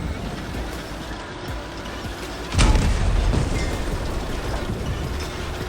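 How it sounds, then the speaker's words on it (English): Autocannon fire from a vehicle in a video game, a sudden heavy boom cutting in over a rumbling engine-and-battle background, followed by a couple of fainter thuds, no talk. "those are an autocannon, so that does have explosion damage"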